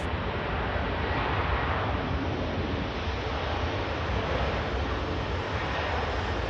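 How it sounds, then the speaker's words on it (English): An Aer Lingus Airbus A330 takes off at Manchester Airport, a steady, loud, broadband jet roar with no rise or fall, resembling rushing surf or wind. "be the first of 2 330s to take off"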